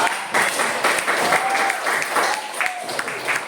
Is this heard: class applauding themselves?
yes